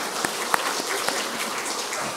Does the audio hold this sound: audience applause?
yes